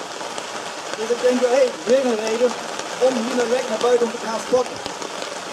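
Steady rain falls outdoors at an outdoor fitness park, a dense continuous patter throughout while someone talks over it.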